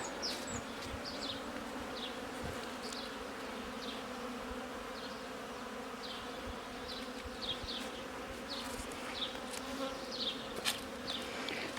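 A steady buzzing hum of many honeybees flying around a hive, continuous and fairly close, with brief louder passes darting by.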